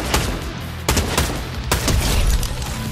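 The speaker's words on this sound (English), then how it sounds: "We use the new AR, and oh my gosh, this thing destroys." Assault rifle fire from Fortnite, loud and close, with a few rapid bursts of shots that come in quick succession. No voices are heard over the shooting.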